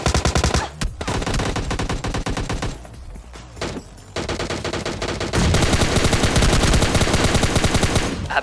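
Loud, dense M416 rifle fire and grenade blasts in a fast-paced battle royale video game, continuous overlapping bursts with a short lull midway before the shooting resumes even louder.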